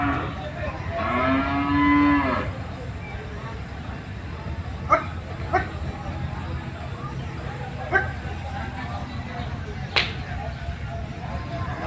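Cattle at a rain-soaked village cattle market in Munshiganj, Bangladesh, let out a loud, drawn-out moo near the start, followed by scattered knocks and distant calls, with a dog barking and people talking around them.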